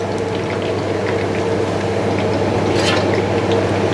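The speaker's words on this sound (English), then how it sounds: "We fry garlic." Chopped garlic sizzles and bubbles steadily in hot oil while being fried as the base for chilli oil, a dense continuous crackle with faint scraping and no voices.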